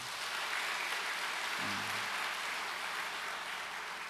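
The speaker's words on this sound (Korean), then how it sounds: "우리 박수 한번 보내주시죠" An audience in a church hall applauds, a steady wash of many hands clapping at a moderate distance, continuous and even from start to finish, with a brief low murmur partway through.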